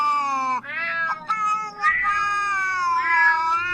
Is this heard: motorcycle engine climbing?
no